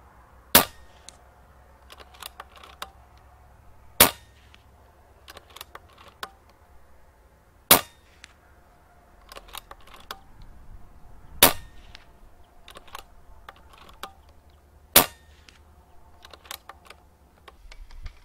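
Sharp, muffled cracks of PCP air rifle shots fired through a Wrangler Phenom moderator ring out about every four seconds, with faint clicks and handling noises in between.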